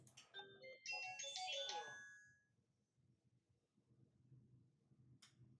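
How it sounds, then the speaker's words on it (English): A bright multi-note electronic chime from a Crestron UniFi Access door lock unlocking plays for about two seconds, then fades into quiet room noise with a faint click near the end. "hear the audible notification sound"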